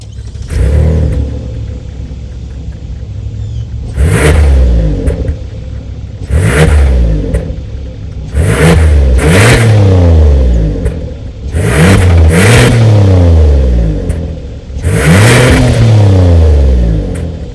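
A 2023 Kia Telluride's 3.8-liter V6 fires up and is revved repeatedly, each blip rising sharply then falling back to a deep, rumbling idle, loud and close.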